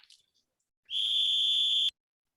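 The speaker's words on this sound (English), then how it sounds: "Then Silver brought out a whistle." A single whistle blown in an audio drama of Treasure Island, one loud, steady, piercing blast held for about a second after a faint, brief earlier sound, then silence.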